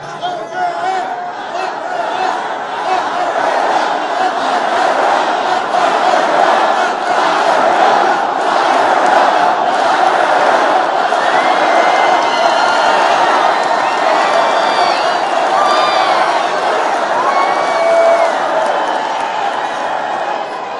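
Large political rally crowd in Phoenix, Arizona, cheering, whooping and shouting continuously, a dense, loud, sustained roar with scattered individual yells and whistles rising above it throughout.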